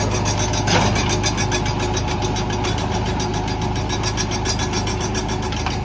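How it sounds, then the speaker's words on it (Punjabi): A tractor engine chugs steadily under light load while running a rotavator through soil, with a rhythmic mechanical knock, at a moderate, even pace and fairly close. "ਚੱਲ ਰਿਹਾ ਟਰੈਕਟਰ ਵੀ ਕੋਈ ਬਹੁਤਾ ਲੋਡ ਤੇ ਚੱਲ ਨਹੀਂ ਰਿਹਾ ਜੀ"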